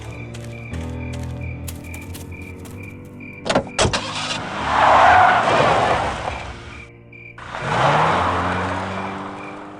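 A car in the adventure game Full Throttle Remastered starts with clunks and a sharp mechanical rattle, then revs and pulls away in two rising engine surges over a steady musical backdrop.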